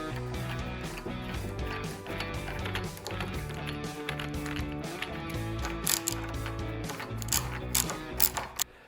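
A screwdriver backs screws out of a mortise lockset doorknob, with rapid ratcheting clicks and scraping turns repeating steadily up close, sharper metallic ticks near the end; no one speaks.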